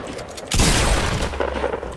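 A burst of gunfire from the Fortnite video game strikes loud and sudden, then rumbles and crackles on for over a second before easing into a softer game din.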